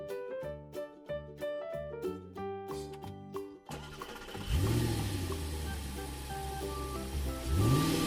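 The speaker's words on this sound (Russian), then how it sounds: "Лимузин." A limousine engine in a children's cartoon starts up after a tinkling musical jingle, then revs with a rising whine and rumbling hum, swelling again near the end.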